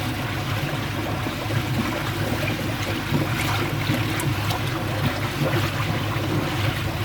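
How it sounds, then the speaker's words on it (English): K1 filter media being agitated in koi pond water inside a homemade static filter bed, giving a dense continuous churning and sloshing roar, close and loud throughout, with no talking. "we're just agitating the K1 now to get rid of all the crap"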